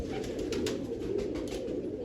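Pigeons coo steadily from a home loft setup, soft rolling calls layered close together and moderately loud, with no talk over them.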